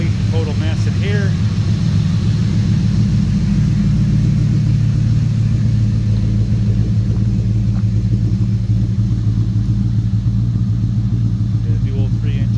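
Ford Coyote V8 with stage 2 supercharger cams idling in a 1988 Fox body car through dual 3-inch exhaust and knockoff mufflers, a loud, steady, deep rumble held close throughout.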